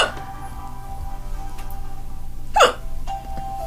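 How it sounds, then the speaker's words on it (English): A single small, cute hiccup rings out near the end of a quiet Dungeons and Dragons tabletop session, close and brief over faint room noise. "You have very cute hiccups."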